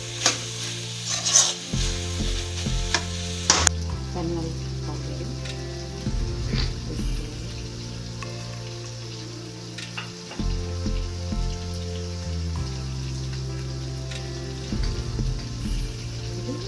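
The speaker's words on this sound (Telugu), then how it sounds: "ఇలా ఒక 5 నిమిషాల పాటు సిమ్లో ఉడికింది అనుకోండి, మంచిగా గ్రేవీతో చికెన్ రెడీ అవుతుంది" Spicy chicken gravy simmers and sizzles in a pan, a steady frying crackle running throughout with occasional scraping stirs and soft clinks, close and fairly quiet, with no talking.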